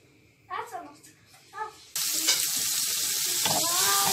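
Green peppers are tossed into a pan of hot olive oil with salt and black pepper. A voice speaks briefly, then a loud, steady sizzle takes over and holds close by.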